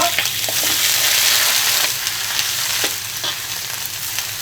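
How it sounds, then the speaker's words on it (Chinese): Beef brisket hisses and sizzles in hot rapeseed oil with Sichuan peppercorns, ginger and garlic, a steady loud frying noise broken by a few scraping stir strokes, close by and without talk. "先把牛肉炒一下"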